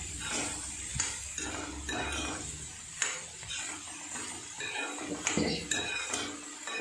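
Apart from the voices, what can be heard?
stirring green beans stir-fry in a pan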